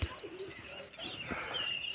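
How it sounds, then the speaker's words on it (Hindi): Pigeons coo and call from a rooftop loft while the flock flies about, soft repeated coos and chirps over a steady outdoor background for two seconds, with no one talking. "देखिए दोस्तों उधर सारे कबूतर"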